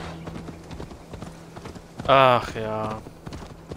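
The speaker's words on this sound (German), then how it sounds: "Wir reiten hin mit unserer schönen Sauermaus." Horse hooves while riding in Assassin's Creed Valhalla: steady clip-clop hoofbeats throughout, briefly interrupted by a short spoken exclamation in the middle.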